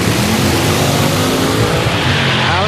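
Savoy drag race car on a test pass roars loudly and continuously, its engine pitch climbing and shifting as it accelerates hard, close and dominant with no talking.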